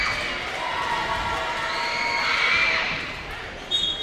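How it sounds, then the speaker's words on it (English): Crowd at a girls' high school basketball game cheering loudly and steadily for free throws, with shrill shouts and whistles in a gym and a brief burst near the end. "The crowd is cheering loud for these free throws."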